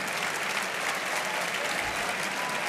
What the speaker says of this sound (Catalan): Aplaudiments a la plaça.